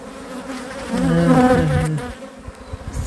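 Honeybees buzz around an open hive during an inspection, a close, droning hum that swells louder through the middle and then eases back as individual bees pass by.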